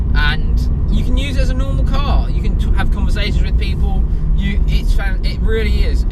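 Honda Integra DC5 Type R with a K20 engine cruising around town, a steady close engine drone and road rumble running throughout beneath continuous talk from people inside the car.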